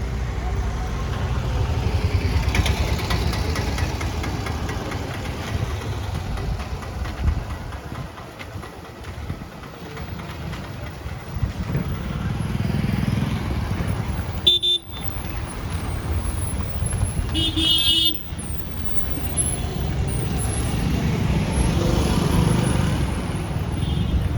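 A vehicle engine idles and runs steadily at a street-side shop, a continuous low rumble with a few brief sharper sounds in the middle, while people talk nearby.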